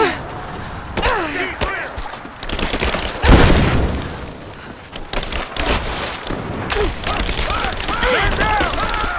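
Dense gunfire in Rise of the Tomb Raider: rapid bursts and a heavy blast near the middle, with shouted voices over the battle.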